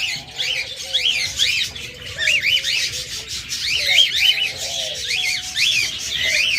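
Pet budgerigars, cockatiels and lovebirds, including a six-month-old pair, chatter with repeated rising chirps and scratchy squawks throughout, a steady mix of several birds nearby with a faint low tone underneath.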